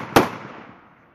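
A single loud, sharp gunshot from a Smith & Wesson 686 Magnum revolver, fired from a seated position, cracks close by and then rings off into a decaying tail.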